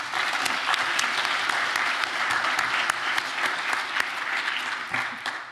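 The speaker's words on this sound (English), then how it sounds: "The applause says it, but I'll say it again." A lecture audience gives sustained applause after a university honors last lecture, dense clapping from a full room, steady and fairly loud without a break.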